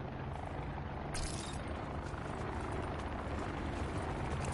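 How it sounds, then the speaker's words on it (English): Helicopter in a Call of Duty match, a steady loud rotor drone that fills the whole stretch without letup, with no talk over it. "Watch this helicopter."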